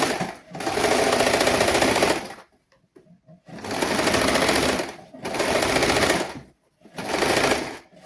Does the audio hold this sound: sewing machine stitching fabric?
yes